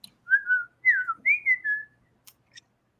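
Someone whistles a short melodic phrase in imitation of cartoon characters who speak only through whistles: four or five sliding, rising and falling tones, close and clear, then two faint clicks at the end.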